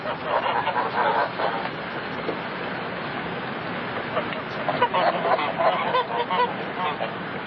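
Geese honk repeatedly amid a dense, noisy flock, the calls overlapping and growing louder and busier toward the end.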